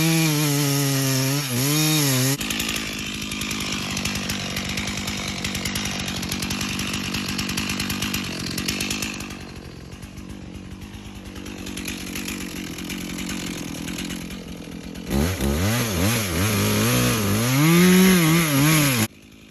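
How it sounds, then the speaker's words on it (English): A chainsaw cuts into a big maple tree on a hillside, its engine droning loud and close through a long cut, dipping lower in the middle and swooping in pitch as the throttle revs at the start and end. "You just hear chainsaw"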